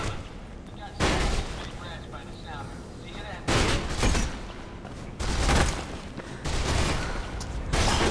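Gunfire aimed at the player in Mirror's Edge, heard as four loud, broadband bursts of shooting, each about a second long and spaced a second or two apart over a steady game background.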